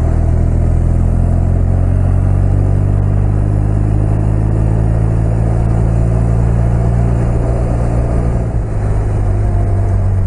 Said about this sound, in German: Auto von vorne.